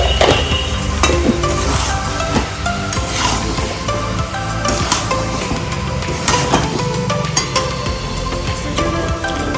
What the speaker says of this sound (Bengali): তারপর ধনে গুঁড়োটা দেওয়ার পরে ভালো করে নাড়িয়ে নেবো মানে চিকেনটা